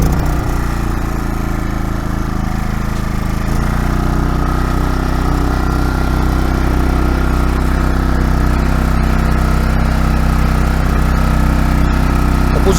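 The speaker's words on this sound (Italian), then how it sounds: "andiamo ad accendere il motore. Questa è la prima accensione in assoluto" Maxpeedingrods MXR3500 inverter generator engine, started for the very first time, runs at a steady, loud, close drone with strong low hum and no talking.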